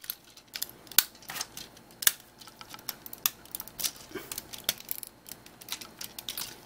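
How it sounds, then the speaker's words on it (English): Optimus Prime toy, a Takara God Ginrai Powermaster reissue, being folded back up: a quick, uneven series of small plastic clicks and snaps, close and fairly quiet, with no talk. "So you take your Optimus and you fold him back up."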